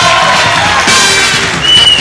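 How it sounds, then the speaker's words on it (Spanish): A loud crowd cheers and shouts at an award ceremony in Lima, Peru, with a steady wash of clapping and excited voices, high-pitched calls rising over the din. "Un aplauso."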